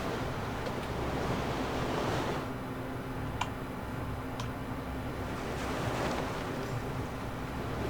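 Ocean waves wash steadily around a sailing boat in Black Desert Online, a broad rushing surf with gusty wind noise that swells and eases, loud and continuous with no talk.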